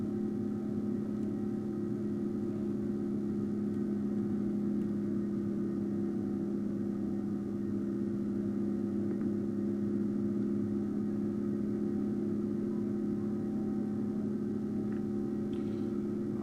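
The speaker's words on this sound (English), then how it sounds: "Our single engine is screaming" Simulated single jet engine of an Airbus A350 in Microsoft Flight Simulator, a steady loud drone with a strong low hum running unchanged throughout, alone with no talk.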